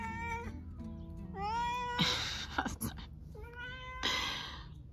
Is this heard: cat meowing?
yes